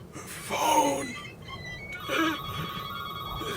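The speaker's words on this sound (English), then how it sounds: "Phone." A telephone rings in a deserted office shed by an empty rocket field, two tonal bursts separated by a short pause, fairly faint over an eerie, hollow background.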